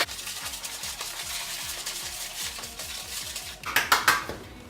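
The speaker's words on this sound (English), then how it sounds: "you're gonna get a whisk and whisk all the ingredients together" Dry baking ingredients for s'mores cookie cups being whisked in a bowl, a rapid run of rhythmic metallic taps and scrapes against the bowl, ending in a few louder clinks.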